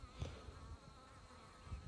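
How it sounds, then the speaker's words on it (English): Honeybees at a newly installed package hive hum in a faint, steady drone nearby, with a few soft low thumps and no voices. "I've barely been bothered by these bees"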